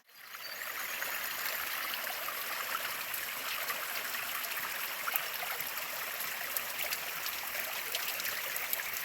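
A creek flows steadily close by, with a continuous even rush and trickle of water. No voices can be heard.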